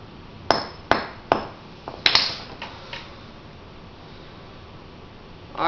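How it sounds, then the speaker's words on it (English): A hammer strikes metal several times while a hand drill is being made, with sharp close clinks spaced about half a second apart before a quiet pause. "use a hammer and just hit it down one time towards where it's angled"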